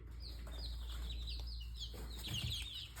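A four-week-old hen chick named Henrietta in a brooder gives short, high chirping clucks in quick scattered bursts, close and fairly soft over a low steady background hum.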